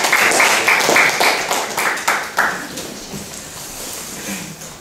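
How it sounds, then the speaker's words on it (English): A short burst of audience applause, loud at first and then tapering off into scattered claps. "Let's welcome Julien with a big crowd of round of applause."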